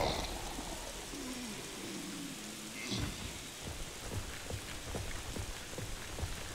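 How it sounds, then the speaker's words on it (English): Heavy rain in the video game Daymare: 1998, a dense steady downpour filling the scene with scattered drips and taps, a muffled low rumble near the start. "Why is it raining all of a sudden and then this strong?"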